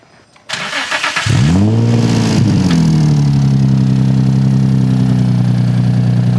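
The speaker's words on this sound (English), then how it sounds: "Took the silencer off. I'm gonna see what it sounds like idling for a little bit until it gets up to temp," Infiniti G35 engine with the exhaust silencer removed, starting up close by and settling into a loud, steady, throaty idle with a deep droning tone.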